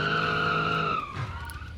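Car tires screech loudly in the BeamNG driving game, one sustained high squeal that slides downward in pitch, with engine noise underneath and no talking.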